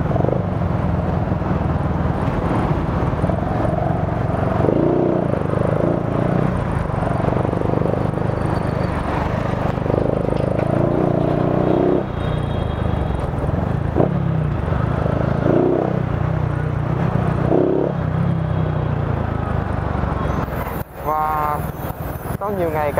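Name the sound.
Honda Future motorcycle air-cooled engine during test ride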